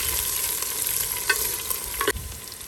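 Crushed garlic, curry leaves and onion sizzling and frying steadily in a pan, with a couple of stirring scrapes, no talking.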